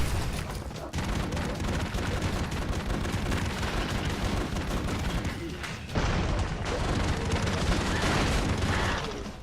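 Explosions and destruction in the video game Broforce: a dense, unbroken barrage of blasts and rapid gunfire-like bursts, loud and chaotic throughout with only a brief dip.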